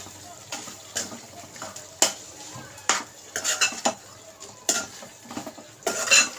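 Repeated scraping and clinking of a spoon stirring chicken curry with coriander in a metal pan, in uneven bursts with quiet pauses between strokes, close by.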